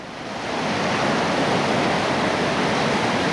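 Whitewater rapids on the Lower New River in West Virginia, a steady, loud rushing roar of churning water that swells up within the first second and holds constant.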